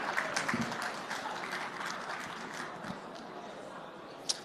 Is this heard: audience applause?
yes